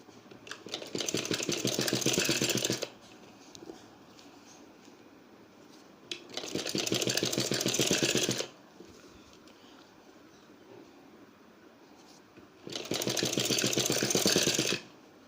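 A sewing machine stitches a kurti collar in three bursts of fast, rhythmic, close-up clatter, with quiet pauses between them.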